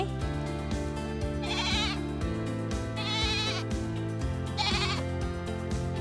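Goats on a farm bleat loudly and close by, three long quavering cries spaced a second or so apart over a low background murmur.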